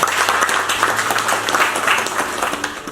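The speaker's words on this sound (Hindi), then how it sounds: "एक बार जोरदार तालियां।" Audience applause at a Maruti Suzuki training session, a dense, steady clapping from the room that fills the whole moment without any talk over it.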